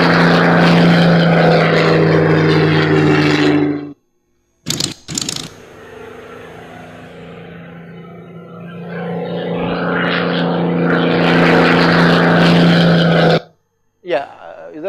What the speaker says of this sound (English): It is a supermarine Spitfire, a distinct aircraft